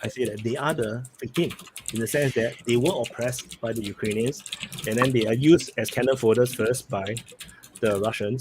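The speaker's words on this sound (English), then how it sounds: "A very loud keyboard." Fast typing on a loud computer keyboard clatters steadily under a man's continuous nearby speech, the key clicks a busy background texture throughout.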